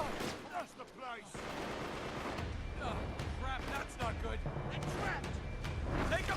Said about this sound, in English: where Sully just started shooting at these guys.